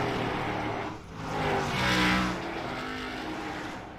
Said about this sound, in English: Blake Mcgilvery gonna be the second car to go a lap down in just a moment